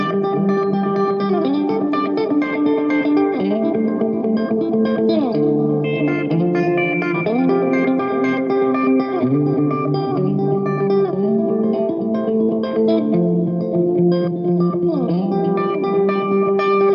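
An electric guitar plays a melodic, sustained part drenched in ambient reverb, its notes ringing and overlapping in a washy, effects-laden tone at a steady level.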